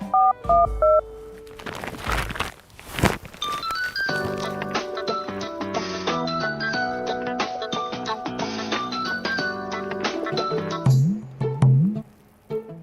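Tones of a keypad phone dialing a number beep out in a quick run of short pitched presses, fairly close and clear, with little talk around them.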